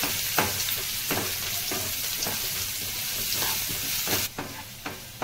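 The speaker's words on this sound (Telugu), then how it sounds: "దోరగా వేయించుకోవాలి, బ్రౌన్ కలర్ వచ్చే వరకు" Chopped ginger and onion pieces with cumin sizzle in a pan while being stirred, a steady close frying hiss punctuated by regular scraping stirs.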